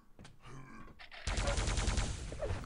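Plasma gun fires in a fast arena shooter match, a rapid continuous stream of buzzy bursts that starts abruptly and runs loud to the end, after a short stretch of quieter game noise.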